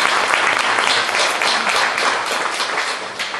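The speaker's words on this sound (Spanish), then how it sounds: "Un aplauso, por favor." Sustained applause from an audience at a recital in a library, a dense steady patter of many hands clapping throughout, fading slightly toward the end.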